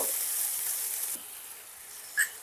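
A paste of tomato, onion, green chilli and ginger fries in a pan for a pabda fish curry, giving a soft, steady sizzle that drops quieter midway, with a brief clink near the end.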